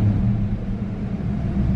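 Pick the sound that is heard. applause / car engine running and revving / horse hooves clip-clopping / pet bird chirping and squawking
car engine running and revving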